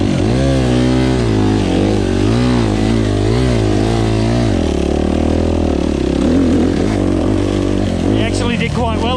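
A Yamaha YZ85 dirt bike rides an enduro trail, its small engine droning and revving continuously up and down in pitch, loud and close throughout, with clattering toward the end.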